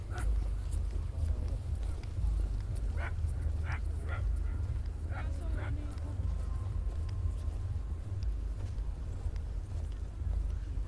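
Several short dog barks ring out at a distance in clusters amid a steady low outdoor rumble of a cold winter night walk at the Lux Helsinki light festival, faint against the background.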